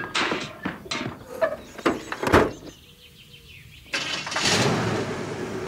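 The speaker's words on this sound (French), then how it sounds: "Le camion rouge, chargé jusqu'au toit, s'éloigna de la jolie maison en bois." A red moving truck, loaded to the roof, starts up outside a pretty wooden house: a few clicks and cranks, a quieter pause, then the engine catches into a steady, close rumble while birds chirp.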